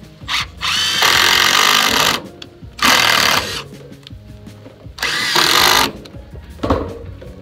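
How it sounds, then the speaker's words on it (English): A power drill drives screws into pine siding in three loud, close whirring bursts of one to two seconds each, separated by quieter pauses, with a brief final spin near the end. "I'll put a couple of screws in it"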